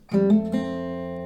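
Acoustic guitar plucks a few quick notes of the F part of the intro that ring out together into a short sustained chord, close and clear.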